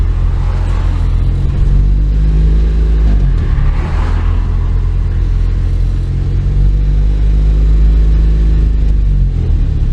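Honda Acty kei truck in rush hour traffic, a steady low engine rumble with road noise running throughout, rising briefly as it pulls away, close and continuous with no talking.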